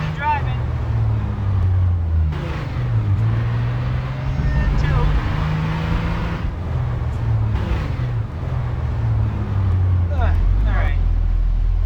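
A car in the Garry's Mod video game on a tornado map drives with a steady, loud engine drone and shifting revs, while a person talks over it throughout.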